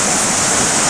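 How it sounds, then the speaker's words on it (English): Waterfall in the New Zealand backcountry during deer hunting in early March, a loud, constant roar of rushing water filling the whole moment with no breaks. "I just came over the top of the waterfall"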